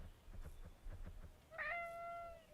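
Faint rhythmic rustling, then a single short, high meow from a cat, fairly quiet and a little distant.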